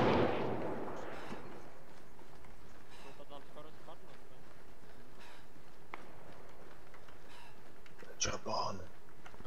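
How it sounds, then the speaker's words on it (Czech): Gunfire in the military shooter Arma 3, a few sharp distant shots and cracks scattered over steady background rumble, with voices talking alongside. "Pečo, tady někde střílí zleva, počkej"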